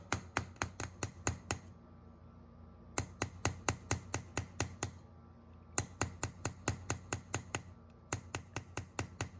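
Sharp metallic hammer taps from a moderately heavy hammer chasing metal in repoussé ring out in quick, even bursts of about eight blows each, separated by short pauses, close and bright.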